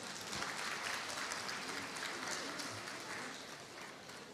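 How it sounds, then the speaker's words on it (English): Faint, distant audience applause at a member celebration and gala dinner, a steady wash of clapping that holds for several seconds and tapers slightly toward the end. "Give him another round of applause."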